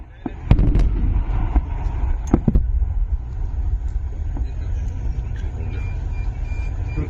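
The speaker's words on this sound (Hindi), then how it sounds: "इसमें आपको तोप दिख रही है, ड्रोन्स कैसे फोड़े जा रहे हैं, कैसे गोले दागे जा रहे हैं" Army exercise in the Thar desert with several sharp artillery blasts and explosions in the first few seconds, followed by a continuous low rumble of distant firing.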